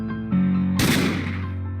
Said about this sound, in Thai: ปัง เสียงปืนดังขึ้น ดังขึ้น